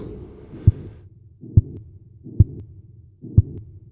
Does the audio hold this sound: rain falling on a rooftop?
no